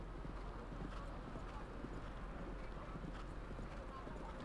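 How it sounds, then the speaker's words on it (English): Horse hooves pounding turf during a horseball match, a dense steady drumming of hoofbeats with crowd noise under continuous commentary. "It's trapped there by Ambrosio, who hauled his horse back, and Chris Campson's come through quickly onto the line and ridden down"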